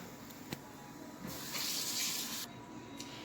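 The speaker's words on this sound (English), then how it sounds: "just gotta wash my hands real quick" A kitchen tap runs for about a second as hands are washed under it during cooking, a close, steady hiss of water between fainter clatters.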